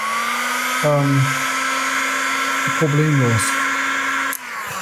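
Hair dryer blowing to dry paint on leather: a steady high-pitched motor whine and airflow throughout, with someone talking over it in two short bursts.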